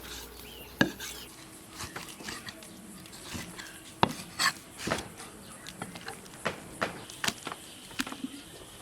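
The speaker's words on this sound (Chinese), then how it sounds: "就剩这么大一块骨头了，现在剁一下" A cleaver hacks through a hard beef leg bone in a kitchen, landing a dozen or so sharp, irregularly spaced chops, near and loud, with small knocks and scrapes between them.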